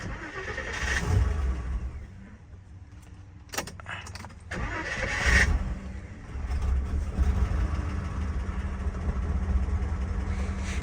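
A 1966 Mercedes 600 W100 engine cranks and fires up, then settles into a steady, fairly loud idle close by, with no one speaking.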